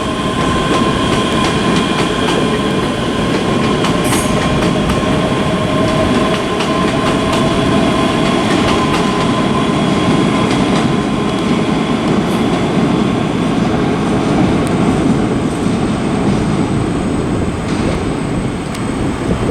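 A ScotRail class 385 electric train, units 385118 and 108, departs Glasgow Queen Street for Edinburgh, a loud, steady rumble of wheels on rails with a motor whine, close by and continuous.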